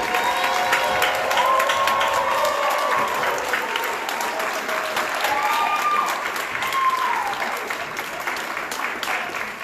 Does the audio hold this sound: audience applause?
yes